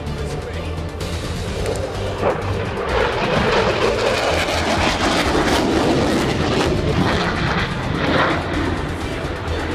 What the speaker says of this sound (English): Do an aileron roll back into the inverted.